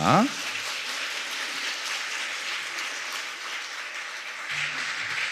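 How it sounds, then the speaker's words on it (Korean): A church congregation at a Sunday afternoon service claps steadily to welcome a speaker, giving an even wash of applause from many hands that holds for several seconds. "우리 집사님 나오실 때 우리 큰 박수로 맞이하겠습니다"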